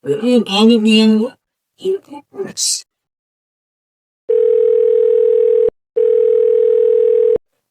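A telephone line gives two long, loud electronic tones with a short gap between them as a call is placed, following a few moments of someone talking and then silence.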